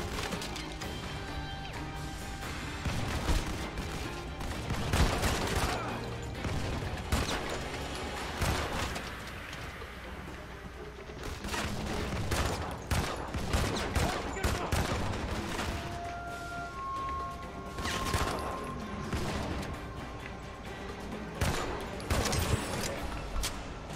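Rapid bursts of gunfire from the shooter video game Modern Combat 5 on PC, loud and dense, with repeated volleys, impacts and crashes layered over game music and effects throughout.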